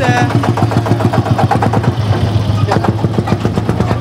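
An old tractor engine chugs steadily nearby with an even, rapid pulse, running at a tractor event in Montfort. The loud, continuous engine note is joined by background noise.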